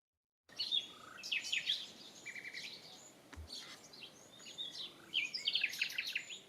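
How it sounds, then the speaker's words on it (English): A male nightingale sings an elaborate, varied song of bright whistles, trills and chirps, delivered in bursts over soft background ambience with no voices. "This is the song of the nightingale, one of the most beautiful and elaborate calls in nature."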